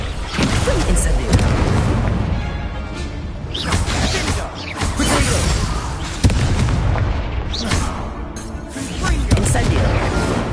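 Incendio fire spell blasts in Hogwarts Legacy, loud booming bursts repeating through a chaotic spell-casting fight amid other combat effects and a voice calling out spells.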